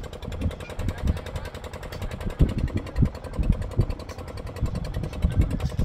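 A motorboat engine runs steadily on a river, a close, continuous low mechanical drone with an uneven throbbing pulse and no talk over it.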